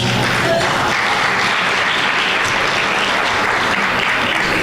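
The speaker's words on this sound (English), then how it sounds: "Round of applause for our Master of Ceremonies" Dense, loud audience applause for the Master of Ceremonies at a tribute event, a continuous roar of clapping hands with no gaps.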